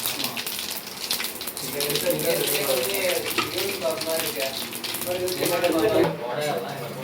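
Fennel seeds sizzle in hot oil for a squid gravy, a steady hiss and crackle that holds for several seconds with the frying getting louder near the end, while a voice talks over it.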